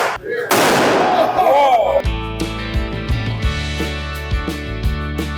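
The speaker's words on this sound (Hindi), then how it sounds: "पटाखे चलना शुरू।" Firecrackers crackle and pop during Diwali celebrations on festive, decorated streets in Nepal, a dense burst of loud bangs early on followed by repeated rhythmic beats and music with crowd noise.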